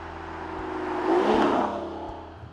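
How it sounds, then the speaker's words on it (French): A 2016 Aston Martin Rapide with a V12 engine revs up, the tone swelling to a loud peak at mid-clip and then easing off, heard close with a mechanical whir and no talking. "un moteur V12, c'est quand même très particulier"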